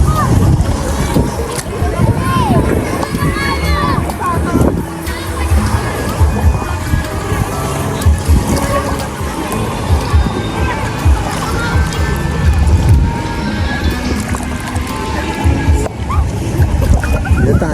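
Big sea waves roll and slosh continuously at a beach resort in Sariaya, with wind buffeting the microphone and people talking throughout.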